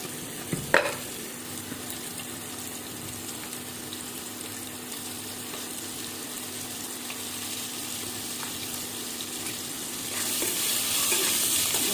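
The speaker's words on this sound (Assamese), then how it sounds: "লৰাই লৈছোঁ" Mutton curry with turmeric and salt is stirred in a pan, giving a steady, close sizzle with soft scraping, an early sharp clank of the utensil, and louder hissing toward the end.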